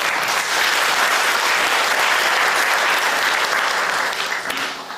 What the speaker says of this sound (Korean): 우리 박수 한번 해주십시오.